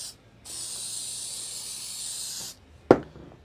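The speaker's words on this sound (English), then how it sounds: "This is just some spray adhesive." An aerosol can of spray adhesive hissing in one continuous two-second burst in a workshop, followed by a short sharp click after it stops.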